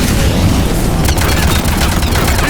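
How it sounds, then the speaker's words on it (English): Dense, continuous barrage of gunfire with heavy booms and explosions from a Mass Effect 3 firefight, loud and unbroken across the whole stretch with no voices over it. "He's taking fire! Protect him!"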